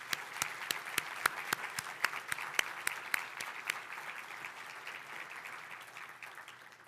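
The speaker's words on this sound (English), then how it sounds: "Please join me in a hearty round of applause for our supporting sponsors" Applause from the student and guest audience at the 2023 Solar Decathlon winners announcement, a steady wash of many hands with a few sharp individual claps standing out, holding fairly even before slowly thinning toward the end.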